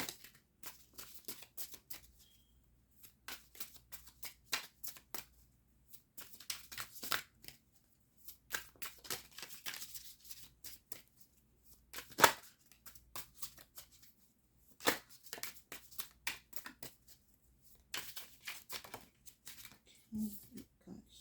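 Tarot cards shuffled by hand for a reading, soft intermittent riffling and flicking bursts close to the microphone, quiet, separated by short gaps of near silence.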